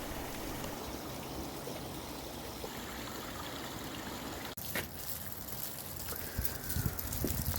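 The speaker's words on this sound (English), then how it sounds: "We really like this pond and waterfall" A small backyard pond waterfall runs with a steady, moderate trickle and splash. A sharp knock cuts in partway through, and the water keeps going beneath some louder rustling toward the end.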